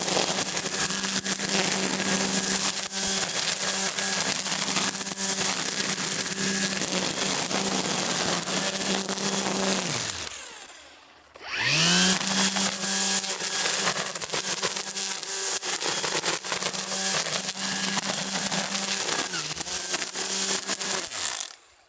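An Ego POWER+ 56-volt cordless multi-tool running at speed setting 2, a steady loud motor whine that cuts out briefly mid-run, then spins back up and continues before stopping.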